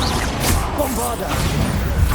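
A Bombarda spell blast in Hogwarts Legacy during a magic duel: a loud, crashing burst of noise with whooshing tails that fills the whole short moment with dense combat sound.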